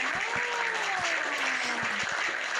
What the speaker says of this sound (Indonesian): Tepuk tangan buat Sumedang.